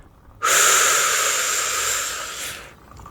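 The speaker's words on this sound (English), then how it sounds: "And breathe in." A long, deep inhalation begins sharply and holds steady for over two seconds as a breathy airy rush, close to the microphone, before tapering off in a quiet, intimate setting.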